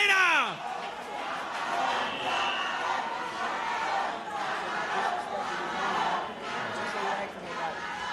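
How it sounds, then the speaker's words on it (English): Crowd at a boxing weigh-in cheering and clapping for the challenger. A steady roar of applause and shouts fills the hall, mixed with chatter. The start has a brief squealing electronic whistle. "Give it up one more time for the challenger."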